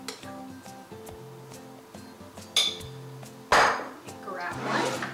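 Metal spoons and kitchen utensils clinking and clattering while someone reaches for a bigger spoon during lasagna making, a couple of sharp close clanks over quiet background music, with a voice talking.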